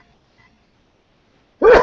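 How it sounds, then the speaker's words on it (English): A single sharp sneeze bursts out close to the microphone after nearly two seconds of near silence, short and loud. "We got a sneeze on this video"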